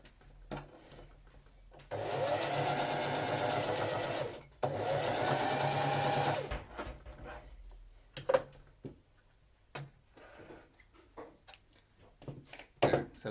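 A sewing machine stitches a tote bag strap closed in two bursts of steady whirring, a few seconds each with a brief pause between, followed by scattered handling clicks and taps.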